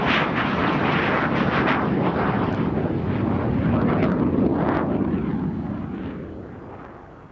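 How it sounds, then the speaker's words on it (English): An aircraft making a low dirty pass at a British airshow with wheels and flaps down, a loud broad jet roar that holds steady, then fades away at the end, buffeted by wind noise. "what they call a dirty pass here, dirty signifying that the aircraft has its wheels and flaps down"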